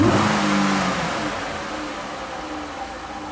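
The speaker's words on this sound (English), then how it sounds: "Let's rev it up and see what she does." A Ram ProMaster van engine, rev-limited near 3,000 RPM with cylinder 6 misfiring slightly, revs up loudly in park and then slowly winds down, its roar fading to a steady idle-like rumble.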